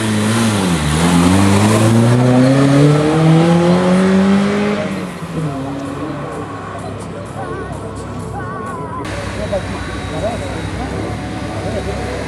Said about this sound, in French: La Renault 5 GT Turbo numéro 35 s'est lancée.